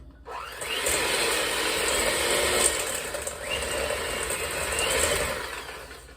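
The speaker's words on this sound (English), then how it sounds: "get going with the mixer" Electric mixer running steadily, a continuous close whirring hum with a bright mechanical whine that swells slightly and rises in pitch twice as the speed changes, with no talking.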